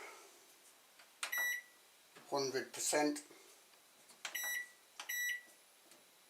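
Several sharp electronic beeps from a microwave's buttons, single and in quick pairs, with a person speaking briefly between them.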